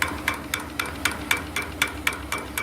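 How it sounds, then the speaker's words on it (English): A small water pump on a steam boiler knocks close up, about ten sharp, evenly spaced metallic taps in under three seconds over a soft background hiss. "Knocking you here is the pump right here."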